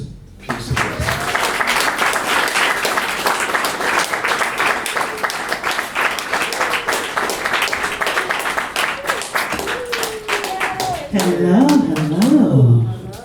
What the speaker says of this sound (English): I'd like to right now give a warm round of applause to Summer Soul with Tiffany Austin.